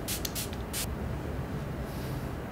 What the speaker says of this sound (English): And of course, another spritz.